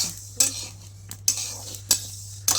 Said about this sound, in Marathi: तर तीळ भाजून घ्यायच्यात बघा पहिला आधी.